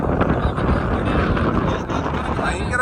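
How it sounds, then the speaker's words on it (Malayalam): Strong desert wind buffets the microphone with a loud, continuous roar and gusty rushing for a few seconds, at a camel-milking spot. "ഭയങ്കര കാറ്റുണ്ട്, നല്ല കാറ്റ്"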